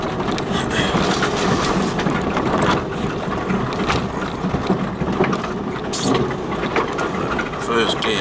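A 4x4 engine pulls away in gear on a rough North Wales green lane, Sarn Helen, giving a continuous close, rumbling drone with rattling mechanical noise.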